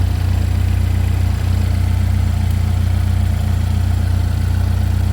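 Replacement engine in a Chevy Equinox idling steadily just after its first start, a loud, even mechanical hum and drone close by, with no talking.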